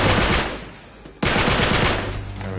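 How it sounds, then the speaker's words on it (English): Rapid gunfire in the video game Uncharted 3, two dense loud bursts of shots separated by a brief dip, close and filling the whole moment with no talk over it. "you can kill these guys by just shooting them in the arm"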